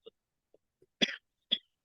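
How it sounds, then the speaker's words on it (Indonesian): Two distinct coughs from a man, close and moderately loud, about half a second apart, with faint small throat sounds before them in an otherwise quiet room. "saya masih batuk"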